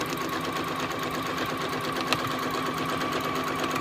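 A sewing machine chain-stitch quilting a zipper pouch with a waterproof lining runs in one steady continuous whir at moderate volume, with a faint brief tick partway through and no talking.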